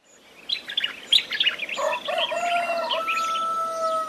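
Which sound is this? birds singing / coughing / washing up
birds singing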